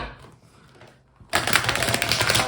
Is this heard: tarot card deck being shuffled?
yes